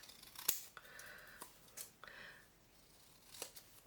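Scissors trimming a thin edge off paper for a handmade journal, a few soft, close snips and faint paper rustles in a quiet room.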